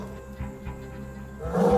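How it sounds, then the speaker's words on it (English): A lioness, the pride's matriarch, calling at night to regroup the pride, with low grunting pulses building into a louder, fuller roar at the end, heard alone and fairly close. "The roar can be heard over 8 kilometers away."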